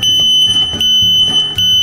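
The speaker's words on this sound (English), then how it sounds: "Relay contact switch when plastic part breaks, triggering the fire alarm system." A fire alarm system set off by a CP31 series break glass call point sounds a loud, steady high-pitched electronic tone, pulsing with sharp bursts roughly every 0.8 seconds, with no voices.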